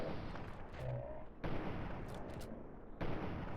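Gunfire in the video game Fallout 3, heard as a dense, sustained run of loud shots through a tunnel with sharp restarts around the halfway mark and near the end.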